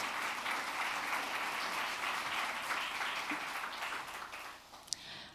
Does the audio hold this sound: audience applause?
yes